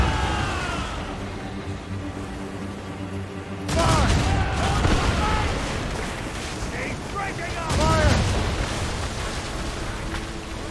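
Ship cannons firing a broadside in the video game Assassin's Creed Rogue, two heavy rolling volleys of booms several seconds apart over ocean and ship ambience, with shouting voices between and over the blasts.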